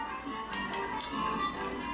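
A glass shot glass clinking as ceviche is spooned into it, three short bright taps in close succession, faint kitchen background around them and no voices.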